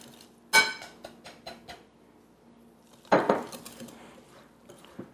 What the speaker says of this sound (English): I'm just kind of slowly mix them in while I'm whisking.